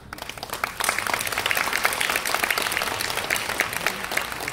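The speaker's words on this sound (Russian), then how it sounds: "нет, один Ройтбург не мог бы аплодировать так бурно, я знаю" Enthusiastic audience applause at an outdoor green theatre, dense clapping that swells after a moment and stays loud and continuous throughout.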